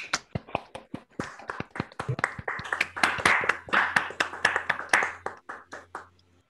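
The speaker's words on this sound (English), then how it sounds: "So let's applaud." Audience applauding at the end of a university lecture on celestial mechanics, a modest crowd clapping in uneven, fairly close bursts that swell and then taper off over several seconds.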